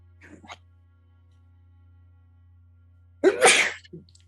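A person sneezes loudly and close by once, a sharp burst with a short tail, after a quieter throat noise near the start and a low steady hum beneath, during a tabletop role-playing game session.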